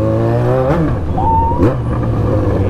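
A Yamaha XJ6 motorcycle's exhaust revs outside a nightclub entrance, loud and close, its steady idle broken by two sharp throttle blips that climb and drop in pitch.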